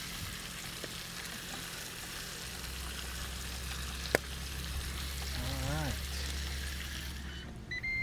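Porterhouse steaks seasoned with steakhouse seasoning sizzle steadily on a Ninja Woodfire Grill, a continuous frying hiss under a low hum, with one sharp click and a brief whistling tone near the end.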